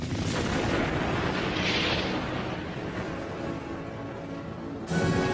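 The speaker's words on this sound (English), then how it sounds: "The explosions of the first stars changed the universe irrevocably" A deep, rumbling explosion boom that rolls on and slowly fades, followed by a sudden second blast near the end.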